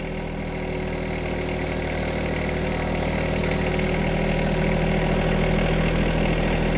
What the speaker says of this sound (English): we're just going to throw this tractor in reverse and let her crawl right over the deck